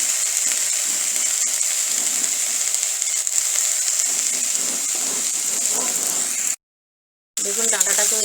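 Vegetable stalks frying in hot oil in a pan while being stirred, a constant loud sizzle and hiss with a brief cut to silence near the end.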